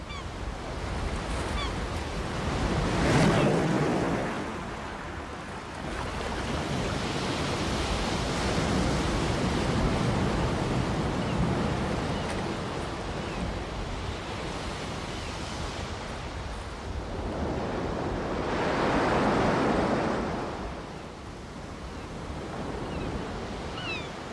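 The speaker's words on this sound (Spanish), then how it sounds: "Los frecuentes derrumbamientos nos indican la violencia con la que el mar asalta los acantilados." Atlantic sea waves crash against the towering Cliffs of Moher, a constant loud roaring surf that swells into heavier surges a couple of times, with no voices.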